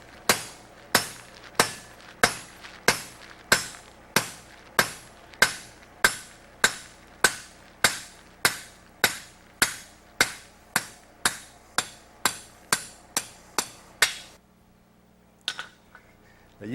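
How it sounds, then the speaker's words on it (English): A blacksmith fullering a hot half-inch round steel bar with a hammer, about twenty-five sharp, evenly spaced ringing blows close by, then a pause and a couple of lighter taps. "And this is called fullering right here."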